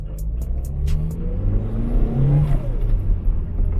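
A Toyota Starlet Sportivo's engine rumbles and climbs in pitch as the car accelerates along the road, a close, throaty drone with gear-linked rises and a few brief clicks at the start.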